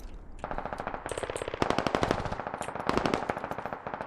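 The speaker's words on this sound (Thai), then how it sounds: "ยิงกระจุยกระจายแม่ง" Rapid automatic gunfire in the military shooter game Squad rattles in long, dense bursts, loud and close, with one burst overlapping another and no voices.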